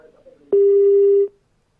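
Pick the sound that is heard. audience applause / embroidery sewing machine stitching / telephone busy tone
telephone busy tone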